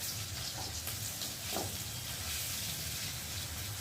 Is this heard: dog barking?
no